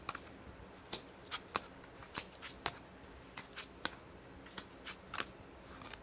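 Tarot of the Abyss cards being shuffled by hand, with crisp riffles and taps at irregular intervals, close and quiet, without talking.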